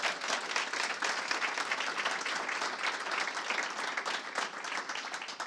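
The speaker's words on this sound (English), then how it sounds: "Give everybody another round of applause" Sustained audience applause closing a special evening event honoring MLK, a dense steady wash of many hands clapping at even loudness throughout, with no voices.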